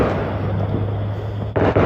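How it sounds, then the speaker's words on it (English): Dense, continuous booming from July 4th fireworks, a loud rumbling wash of bursts with a sharper crackling volley near the end. "All the fireworks."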